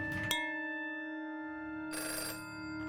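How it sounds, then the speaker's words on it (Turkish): A telephone rings inside the horror game Bad Dream: Coma, a sustained electronic tone with steady harmonics, broken by a short burst of noise at the start and another near the end. "Bu telefon çalıyor"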